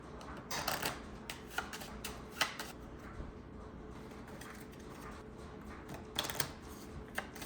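Quick bursts of riffling card shuffles, several short flurries spaced apart over a soft steady room background, fairly close.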